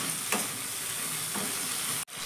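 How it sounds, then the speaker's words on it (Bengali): Okra and spice mix fry in a pan with a constant, close sizzle, broken by two scraping stirs before the sound cuts off. "1 মিনিটের জন্য আমি এইভাবে ভালো করে ঢেঁড়স আর মশলাটা আমি এইভাবে ভেজে নিচ্ছি।"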